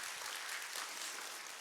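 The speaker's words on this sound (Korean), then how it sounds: "우리 하나님께 영광의 박수 올리겠습니다" A church congregation clapping together in worship, a dense, even round of applause filling the room without voices.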